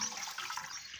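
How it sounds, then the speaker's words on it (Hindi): Water gushes steadily into a large cooking pot in a village kitchen while colocasia-leaf pakoras are being prepared, a close, continuous splashing rush lasting about a second. "अब इसमें जो हम पानी डाल देंगे"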